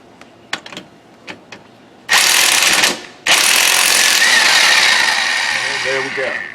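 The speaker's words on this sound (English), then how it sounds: "So I'm just going to go with a pair of vice grips and an impact." An impact wrench hammers loose a CVT nut held with vice grips, firing in a short loud burst and then a longer sustained rattling run, after a few light taps of handling.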